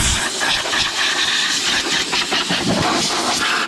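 Loud, continuous hiss of compressed air blasting steadily to clean dust off a tractor, with a rough engine-like rumble underneath and no talking.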